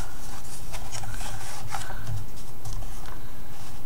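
Paper trimmed down to size for a mini album project in a keepsake box, a close, steady rasping of a trimmer or blade with repeated soft strokes and faint rubbing, no talk.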